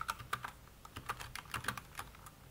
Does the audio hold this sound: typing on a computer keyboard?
yes